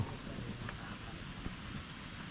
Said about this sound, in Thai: ตอนเช้าวันนี้ฝนตกทุกคนเลย